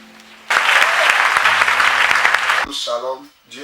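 A church congregation breaks into loud applause and cheering for about two seconds over a low musical backing, then it fades and a voice starts speaking.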